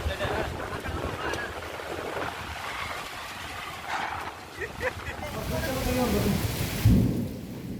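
Heavy rain pours steadily during a windy thunderstorm in Yadgiri, with broad rushing noise throughout and a deep rumble of thunder near the end.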